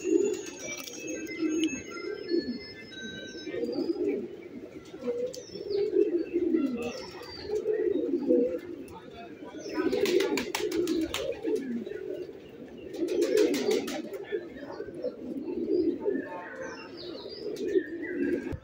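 Pigeons at Mirpur zoo in Dhaka coo in low, rolling repeated phrases throughout, fairly close, while faint chirps from other birds break in now and then overhead.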